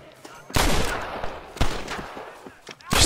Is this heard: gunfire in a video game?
yes